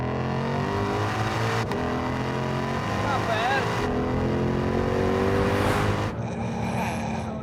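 A car accelerates hard, its engine rising steadily in pitch through the gears with a loud, sustained roar heard from inside, as people talk briefly over it.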